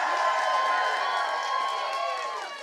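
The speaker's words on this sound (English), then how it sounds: "What an incredible crowd." Large crowd at a political rally in Medicine Hat cheering loudly and continuously, a dense roar of many voices that stays strong and fades slightly at the end.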